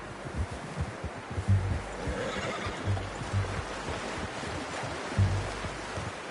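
Horse in Red Dead Redemption 2 whinnies and snorts several times over a soft, steady outdoor ambience, the calls close and moderately loud against the quiet game background.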